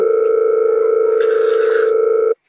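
A telephone rings with a single steady electronic tone, held loud and unbroken for over two seconds, then cut off abruptly. Nothing else is heard.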